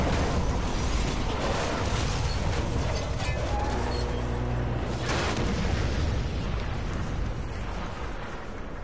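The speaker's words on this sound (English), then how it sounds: "But we all do love explosions" Explosions in a Spider-Man video game, a dense, loud, continuous rumble of blasts and booms with no talking.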